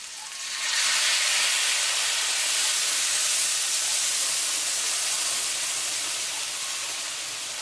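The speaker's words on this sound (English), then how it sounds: "now we're going to add in 2 hot cups of beef stock" Hot beef stock pours into a pan of liver and onions over medium-low heat, giving a loud, steady steamy hiss and sizzle that swells in after a moment and holds with little change, heard alone.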